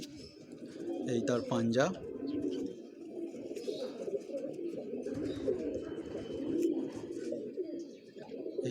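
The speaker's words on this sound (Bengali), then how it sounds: "পাঞ্জাবি পায়রা বন্ধুরা, পাঞ্জাবি মালওয়াই পায়রা" A Punjabi Malwai pigeon in a home loft gives soft, low cooing calls repeatedly and close by, while someone talks over it.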